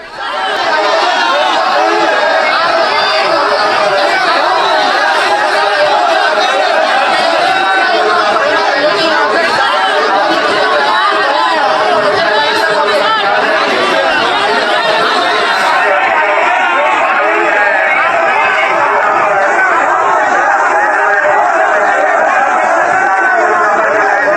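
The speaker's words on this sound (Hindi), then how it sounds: "स्टेशन का हाल देखिए जरा, कदम रखने की जगह नहीं थी, खचाखच भीड़" A packed, jostling crowd fills a railway station crowded with candidates for a police constable recruitment exam, a dense steady babble of many voices and shouting throughout, close and loud, with no single speaker standing out.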